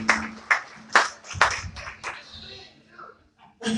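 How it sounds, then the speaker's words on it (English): Audience applause at a public conversation event, a brief burst of clapping that rises in a few sharp bursts over a steady hum and then fades, with a voice speaking near the end. "Round of applause."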